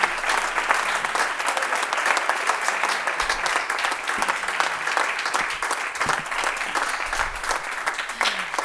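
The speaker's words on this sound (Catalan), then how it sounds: "L'acompanyem en un altre aplaudiment" Audience at a communication awards night breaks into dense, steady applause, loud and sustained throughout, with faint voices beneath the clapping.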